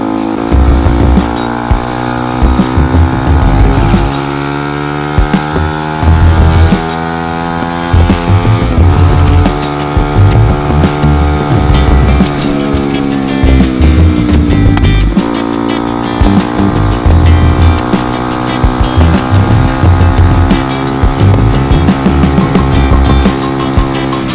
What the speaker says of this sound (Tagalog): nagbabago-bago yung RPM natin kapag uminit na yung makina